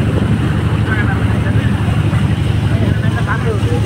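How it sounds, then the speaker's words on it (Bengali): A boat's engine drones steadily and loudly close by on the broad Chalan Beel wetland, with wind buffeting the microphone and faint speech mixed in. "সামনে আমাদের আরেকটি নৌকা যাচ্ছে।"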